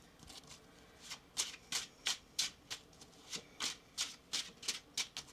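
A tarot card deck being shuffled by hand: a run of a dozen or so crisp riffling bursts in a quick, steady rhythm, close and fairly quiet, with no talking.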